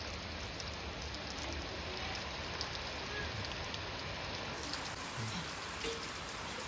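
Light, steady rain falls in a Gujarati village near Botad, a continuous even hiss with no talk and no pauses.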